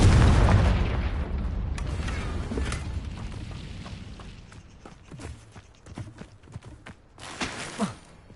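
A Confringo blasting spell explodes in the Hogwarts Legacy video game, opening with a loud booming burst that decays into rumbling debris, followed by scattered footsteps and small pops.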